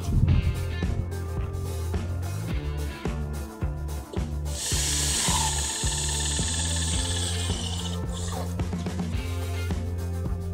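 A power drill driving screws to fasten a picket rail section to its installed clips, four screws at each end: repeated close mechanical whirring and rasping bursts with rhythmic pulsing, then a sustained high whine, no talking.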